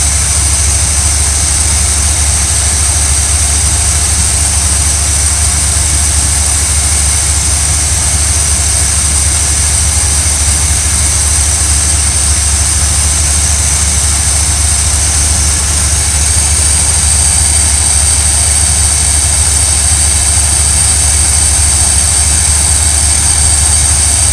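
A large RV engine idles steadily and loudly throughout, a constant low rumble with a high whine on top, no voices.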